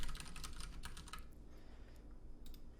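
Quick keystrokes on a computer keyboard tap out a web address in a short burst, then trail into a few scattered clicks, faint and close.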